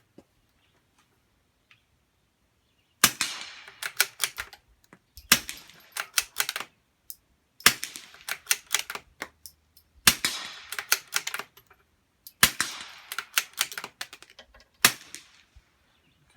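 Rifle fired through a homemade aluminum tube suppressor with compartment separators: six muffled, sharp cracks spaced a few seconds apart. Each crack is followed by a quick cluster of mechanical clicks and rattles, all heard alone in an otherwise quiet setting.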